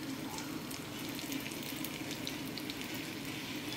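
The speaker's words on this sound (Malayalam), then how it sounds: "ഇനി നമ്മൾ കുറച്ച് കുറച്ച് മാവ് ഇങ്ങനെ എണ്ണയിലേക്ക് ഇതുപോലെ ഒഴിച്ചു കൊടുക്കുക സ്പൂൺ കൊണ്ട്." Idli batter spooned bit by bit into hot oil to fry pakoda, giving a steady, soft sizzling and bubbling that runs throughout at low level with no talk.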